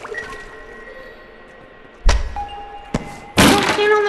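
A gun dropped on the ground in the video game Animal Company, heard as a sharp thud followed by another knock and a final impact with a ringing, bell-like tone, over faint background hum.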